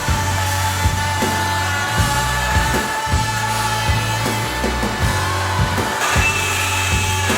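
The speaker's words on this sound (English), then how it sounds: "we're going to give the multi-tool a go with a new blade" A Bosch multi-tool fitted with a Starlock carbide blade cuts through metal cable tray, giving a continuous, close buzzing oscillation with rhythmic grinding pulses as the blade bites.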